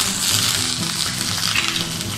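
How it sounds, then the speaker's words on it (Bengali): Curry leaves sizzle in hot oil in a nonstick pan with dry red chillies and whole mustard seeds for a South Indian lemon rice tempering, a steady loud crackling hiss throughout, close up with no talking. "এবার আমি কারি পাতা দিয়ে দিলাম"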